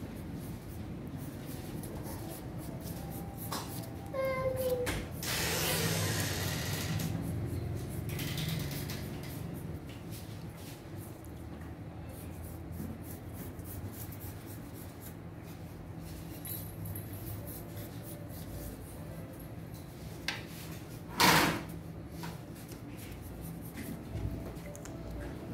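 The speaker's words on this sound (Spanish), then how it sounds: "Pero primero yo voy a dibujar nuevamente mi manga" Soft scratching strokes of a pen or chalk marking a sleeve pattern on fabric, with faint rustles and one sharp tap near the end, close and quiet.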